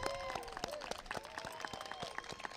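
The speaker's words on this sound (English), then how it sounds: "let's give them a round of applause" Audience applause at a community forum, a scattering of claps with crowd noise and whoops, fairly faint and distant, under a voice speaking.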